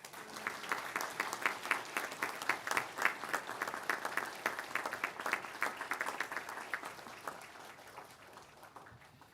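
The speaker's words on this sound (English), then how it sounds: "if anybody asks me how the graduation speech went, I can say it was interrupted with applause" A graduation ceremony audience breaks into sustained applause with some cheering, a dense wash of clapping that stays loud throughout and fades slightly at the end.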